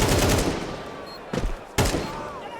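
Gunfire in Counter-Strike 2 during a pro semifinal match at IEM Cologne 2024: loud, close bursts of rapid shots separated by short pauses.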